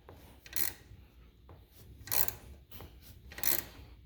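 A rivet nut (nutsert) being set into a stair rail, giving three rasping, grinding bursts at a steady rhythm with quieter mechanical scraping between them, heard up close.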